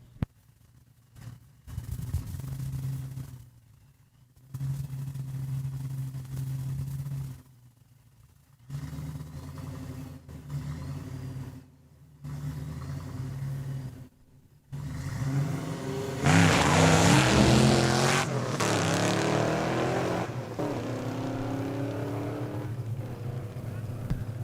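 A manual-transmission Mustang racing a quarter mile at Saskatchewan International Raceway, its engine rumbling at idle and then roaring loud and sustained as it accelerates, with a commentator's voice heard at points.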